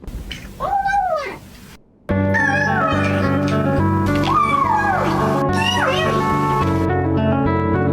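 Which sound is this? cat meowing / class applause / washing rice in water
cat meowing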